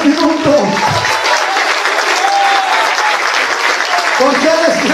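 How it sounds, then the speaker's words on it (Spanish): A church congregation applauding, dense sustained clapping from many hands that fills the room, with voices and a preacher heard over it. "Usted puede aplaudir al rey de reyes y señor de señores por algunos minutos"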